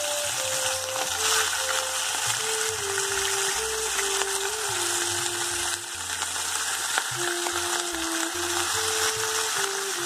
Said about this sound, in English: Fry both the sides, flipping the fish in between.